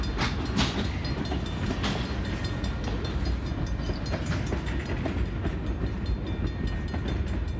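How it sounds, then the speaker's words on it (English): A train rolls through the French Quarter of New Orleans near the riverbank, a loud, close, continuous rumble of railcars with rhythmic wheel clatter throughout. "We can't cross until this train's passed anyway."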